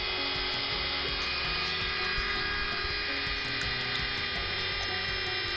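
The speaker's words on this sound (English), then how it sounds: "now I'm just moving the camera and I'll drill it where it stands" A small drill works into a Matchbox Ford Galaxie model car, giving a steady, close, high-pitched whine with a constant motor hum that runs without a break.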